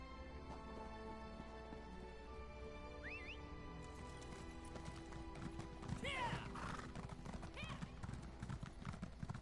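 Video game horse hooves clip-clop in a steady trot in Auridon beneath a constant background hum, with a brief whinny near the start and a louder flurry of clatter midway.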